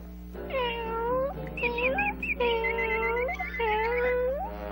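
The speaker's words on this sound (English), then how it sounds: "The canary's beginning to sound like a kitten." A kitten meows repeatedly in a Tom and Jerry cartoon, a string of high, drawn-out mews with rising and falling pitch, close and clear over a low steady hum.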